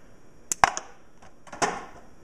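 A GI Joe Cobra Commander toy's spring launcher test-fires, producing two or three sharp, close plastic snaps with brief rattles between them.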